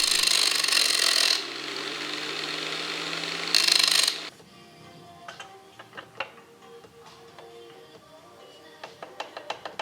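An angle grinder with speed control grinds on a cam gear in two loud, high-pitched bursts, then cuts out, leaving scattered light metallic ticks and taps close by.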